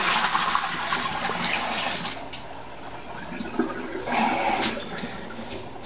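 Water sloshing and swirling inside a stainless Corny keg during a rinse while cleaning, a steady rushing liquid wash lasting several seconds, close and fairly loud, with no talk over it.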